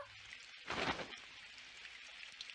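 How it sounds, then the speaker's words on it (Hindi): Steady, soft rain hisses in the background, with a brief louder swell of pattering near the start. "काश ये बारिश जल्दी से रुक जाए"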